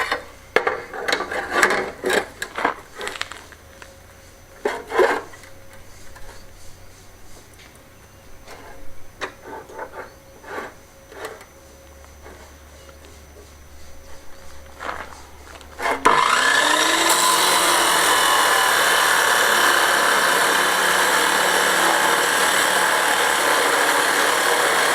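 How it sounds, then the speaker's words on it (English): Wood pieces for a derelict Spanish finca renovation being cut to length: close, rhythmic hand sawing strokes, then a loud power saw starts and runs steadily to the end. "I'm just going to cut these off, cut the tops first, and then cut the bit for the leg that's going down the wall afterwards"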